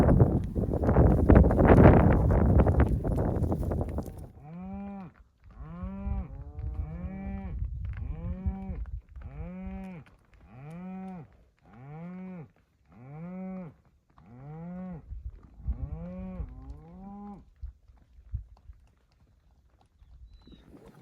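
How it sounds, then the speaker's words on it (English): Herd of cattle being pushed up a highway toward a holding pasture, lowing in a steady series of about ten drawn-out moos, one after another, with a loud burst of wind or movement noise at the start. "Got the cows in the little holding pasture here."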